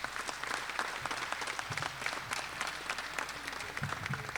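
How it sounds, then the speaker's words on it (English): An audience at a drug and violence awareness expo gives a round of applause: a scattered, crackling patter of many hands, quiet and distant, holding steady throughout. "So I at least want to make sure we give them a round of applause."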